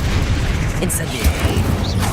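A fire spell bursts in a wizard video game, short booming blasts and crackling pops in the middle of chaotic combat, with a voice shouting a spell name.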